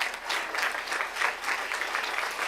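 Applause at a school board meeting honouring the Suffolk County champion girls varsity basketball team, a steady room-filling round of clapping from the audience that holds at an even level throughout.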